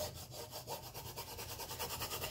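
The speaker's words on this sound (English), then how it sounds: "this is like a little spatula or board scraper" A small board scraper rubs firmly back and forth over letters on a canvas fall sign, giving a steady run of close, rhythmic scraping strokes with no talk.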